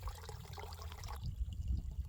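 Spring water trickles and splashes into a bottle being filled at a mountain spring on a hiking trail, a steady close liquid gurgle that grows fuller and lower toward the end, with no talk.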